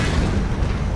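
A Gauss cannon mounted on a vehicle in Halo 2 fires a single deep, heavy boom. It is close and loud, lasts about a second with low rumble throughout, and no one talks.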